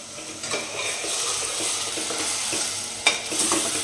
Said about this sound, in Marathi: मसाला परतून घेते आता चांगला तेल सुटेपर्यंत.